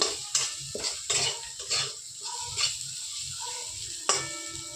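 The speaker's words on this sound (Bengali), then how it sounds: "মশলাটা একটু কষা হয়ে যাচ্ছে।" Spice paste fries in a pan with sugar added while a metal spoon scrapes and clinks against it in irregular strokes, a soft sizzle running underneath.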